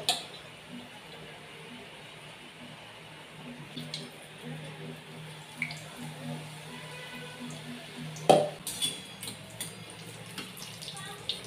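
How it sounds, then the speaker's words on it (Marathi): Jodhpuri mirchi vada, stuffed chilli fritters, frying in hot oil give a steady hiss throughout, with one sharp, louder clatter near the end. "आता ह्या तेलामध्ये आपण हे जोधपुरी मिरची वडे तळून घेणार आहोत"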